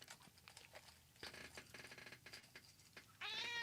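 A cat meows in a soft, fairly close series of short cries and chirps, ending with a brief louder, higher-pitched meow.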